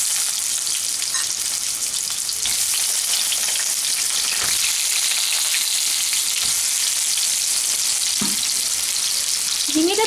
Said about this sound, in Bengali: প্রথমেই আমি তেলের মধ্যে ঝিঙেগুলোকে দিয়ে দিচ্ছি একটু ভেজে